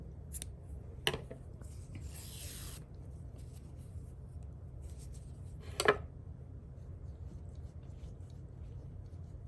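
Scissors snipping a crochet yarn tail, two short, sharp, quiet clicks several seconds apart against a faint room hum, with a soft rustle between them.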